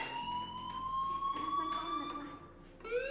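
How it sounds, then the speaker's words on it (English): A fire alarm rings in the video game Life Is Strange Remastered, a steady electronic tone that holds throughout with a slight upward drift, under faint muffled voices and ambient noise. "Hey, do you hear that fire alarm?"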